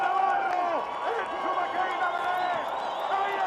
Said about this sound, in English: And they are singing for him and cheering.